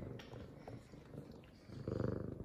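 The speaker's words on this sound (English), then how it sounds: "Listen to that purr." An F2 Savannah cat purrs softly up close, a continuous low rhythmic rumble that grows noticeably louder toward the end, with no speech over it.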